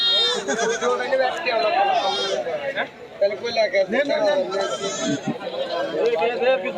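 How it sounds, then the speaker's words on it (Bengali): Mother goats with their kids at a busy livestock market, bleating repeatedly amid a constant crowd babble and nearby people talking. "বাচ্চা বাচ্চা সহ মা ছাগলগুলো"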